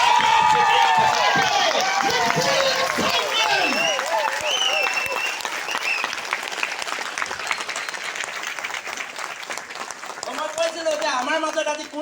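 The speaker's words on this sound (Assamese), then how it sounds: "এটা জোৰদাৰ হাত চাপৰি" Audience applause and cheering in a hall at a program opening in Golaghat, loud and dense throughout, with an amplified voice and musical tones over the start and crowd noise carrying on.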